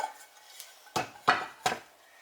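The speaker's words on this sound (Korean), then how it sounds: "프라이팬 위에 이런 고무 커버 같은 걸 하나 올리고" Frying pans being stacked with rubber covers placed between them in a kitchen: three distinct clanking knocks of metal pans set down in quick succession, fairly close, with no talking.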